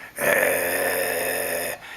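A voice imitates a cat growling in bed, a sustained, rough, throaty growl lasting under two seconds, close and fairly loud, with no other talk.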